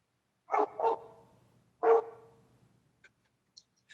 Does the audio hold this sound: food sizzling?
no